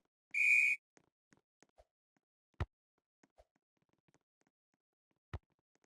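In-game audio from the Roblox volleyball game Volleyball 4.2: a short loud whistle blast at the start, then sparse quiet thuds and taps with a few sharper knocks, mostly near silence.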